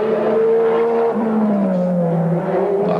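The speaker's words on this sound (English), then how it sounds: "Checkered flag time for Mark Gibbs and the GIO GT-R" A Nissan R32 GT-R race car howls around the Bathurst circuit during a top-ten shootout lap, its engine note loud and sustained, holding high revs and then sliding lower as it changes pitch.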